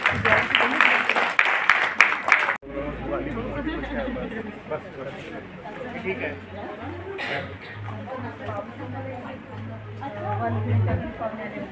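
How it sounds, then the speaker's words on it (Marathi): Audience applause for dignitaries at a folk dance competition, a burst of loud clapping at the start that cuts off quickly, followed by crowd chatter and a voice over a low hum. "सगळ्या मान्यवरांसाठी एकदा जोरदार टाळ्या होऊन जाऊ दे।"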